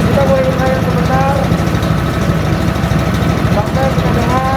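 An MBI PT 500 engine idles with a steady low, dense rumble that holds evenly throughout, loud and close, with faint higher tonal whines layered over it.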